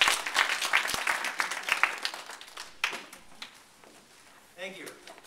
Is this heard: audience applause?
yes